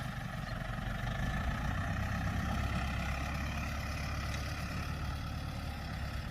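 A delivery truck that has just dropped off a vintage Zetor tractor at a smallholding pulls away with a steady, low diesel rumble that holds fairly constant throughout, with no voices over it.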